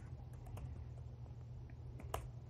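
Sparse keyboard clicks from typing a search query into Google on a computer, scattered irregular taps over a steady low hum, faint and close.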